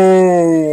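A dog in Zelda: Breath of the Wild, met near a seaside beach, gives one drawn-out, steady whining or howling call lasting under a second, loud and close with no talk over it.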